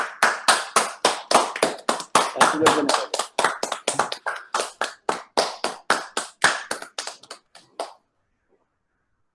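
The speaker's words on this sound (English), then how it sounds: "Clap for him." Steady rhythmic clapping from a crowd at a Guru Poornima celebration, loud and close, lasting about eight seconds before stopping abruptly, with a voice speaking briefly over it.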